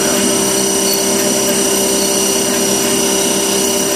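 A Haas TM-1 CNC mill rigid-taps aluminum with a loud, constant high-pitched spindle whine and mechanical hum that stay steady and unbroken throughout.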